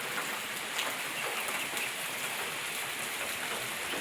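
Heavy rain pours down outside a house, with water running along the street, making a loud, steady, unbroken hiss close by with no voices over it.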